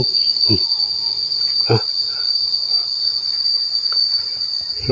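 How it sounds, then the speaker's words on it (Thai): A dense, steady high-pitched trill of crickets in a forest fills the scene, loud and continuous, with a few soft thumps and rustles beneath. "เขาจะได้ยินเสียงจิ้งหรีดร้อง"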